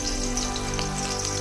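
Garlic sizzling and frying in a hot pan as the first step of a Filipino tilapia escabeche, a steady, close, continuous crackle with no talking over it.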